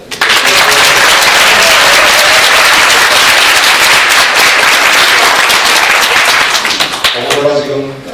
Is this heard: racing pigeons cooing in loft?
no